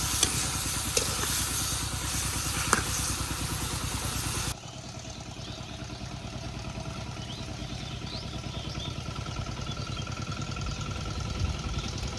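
Dried fish (shutki) sautéing in a pan gives a steady, close sizzle that runs the whole way, louder at first and then settling into a softer, even hiss.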